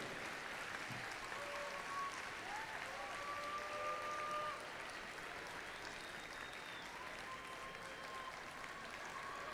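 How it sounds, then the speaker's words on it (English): Stadium crowd applauding and cheering as award nominees walk onto the field at a FIRST robotics state championship in Michigan, a steady wash of distant clapping and crowd noise with faint voices and whistles layered over it. "let's hear a big cheer as they're coming out"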